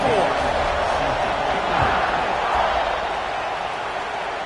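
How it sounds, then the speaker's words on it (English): A crowd buzzes at a football game after a score, a loud, steady roar of many voices that lasts the whole stretch with little change. "this crowd is buzzing after that last score"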